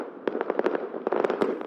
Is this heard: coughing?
no